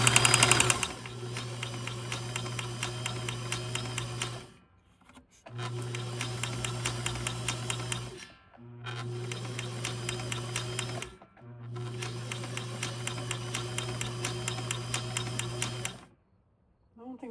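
A Kenmore 158-1941 sewing machine sews a straight stitch in four bursts of fast, rhythmic mechanical whirring with a steady motor hum, each separated by brief pauses, close and fairly quiet.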